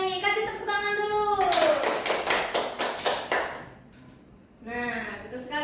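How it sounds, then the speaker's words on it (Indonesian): Classroom applause in a Year 12 high-school maths lesson: about two seconds of rhythmic, evenly spaced hand claps, fairly close and loud, with speech heard before and after. "Kasih tepuk tangan dulu"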